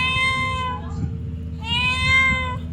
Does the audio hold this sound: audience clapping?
no